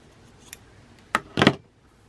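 Scissors snip through fabric while mittens for a stuffed gnome are cut out: a faint early click, then one sharp cut and a louder, longer crunching snip, close and alone.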